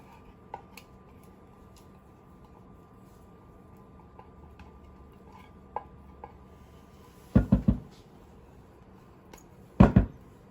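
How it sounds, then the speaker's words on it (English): A rubber spatula scraping sweetened condensed milk out of a can: mostly quiet with faint ticks, then two short clusters of scraping knocks, close and distinct. "Let me get a rubber spatula so I can get all my milk up out of here"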